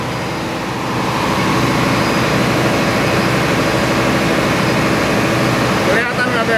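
A Cummins QSM11 diesel generator set, the auxiliary engine aboard an Indonesian cargo ship, runs at 1500 rpm with a loud, steady low drone and mechanical clatter that holds throughout, dipping briefly near the end.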